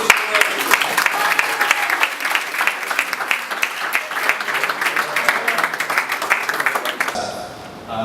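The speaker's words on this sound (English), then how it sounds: "let's give all the teams that participated in this event a round of applause" Sustained audience applause honoring the participating teams at an Egyptian entrepreneurship event, dense steady clapping from a crowd lasting about seven seconds before fading abruptly at the end.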